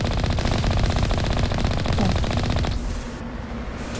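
Rapid automatic turret fire in the Mass Effect 1 video game, a dense, loud, continuous burst of gunshots that stops abruptly near the end, leaving a quieter background.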